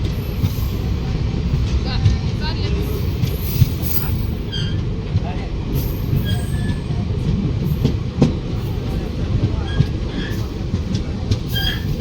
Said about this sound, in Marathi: निघालो आम्ही रेल्वेनं